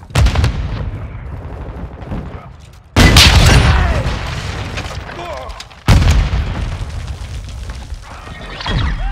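Explosions in Call of Duty: Modern Warfare II as claymore mines detonate, two loud close booms with rumbling decay over a noisy gunfire backdrop.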